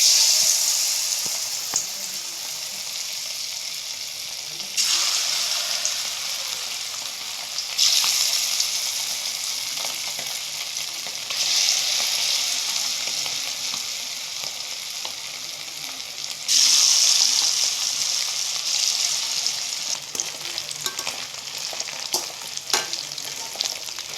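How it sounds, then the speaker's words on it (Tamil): Eggs deep-frying in hot groundnut oil in a pan, a loud steady crackling sizzle that surges in several waves as the eggs are turned, close up with no voices. "இப்போ நம்ம இந்த முட்டை இதை நம்ம பொரிச்சு எடுத்துக்கலாம்"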